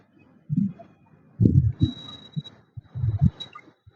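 Wind buffets the microphone in irregular low, rumbling gusts, with quieter pauses between the stronger blasts.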